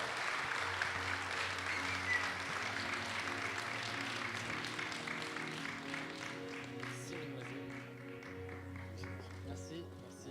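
An audience applauds an award winner for la Gambille at a French ceremony, a steady wash of clapping under a steady low musical drone, with a voice talking over it near the end.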